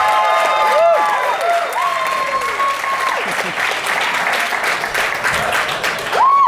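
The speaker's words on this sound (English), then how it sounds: "Come on, hands together, clapping." A live comedy club audience applauding and cheering, with dense steady clapping, rising whistles and shouts carrying through the room.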